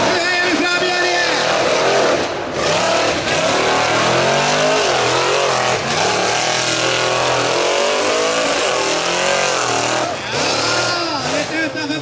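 Monster truck racing engines roar and rev hard at a 2019 monster truck race, sweeping up and down in pitch under excited commentary for the whole stretch.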